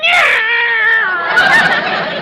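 A cat lets out a long, drawn-out meow up close, its pitch wavering and sliding before trailing off.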